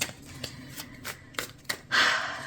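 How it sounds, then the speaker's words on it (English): Tarot cards are shuffled by hand, a series of crisp riffling snaps and flicks in quick succession, close and fairly quiet, ending in a longer brushing riffle. "So as I finish up shuffling out your cards,"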